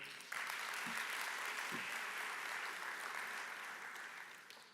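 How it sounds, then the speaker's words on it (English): An audience at an investment conference applauds, a dense, even wash of clapping that starts abruptly, holds steady and tapers off slightly toward the end, heard at a moderate distance. "Round of applause for him."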